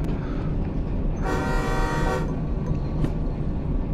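A train horn in the Derail Valley railway simulator sounds once in a loud, sustained blast of about one second, followed by a brief second toot, over a steady low engine rumble.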